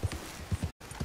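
Hooves of a horse in Red Dead Redemption 2 clip-clop in a quick, uneven rhythm at moderate loudness, with a brief dropout near the end.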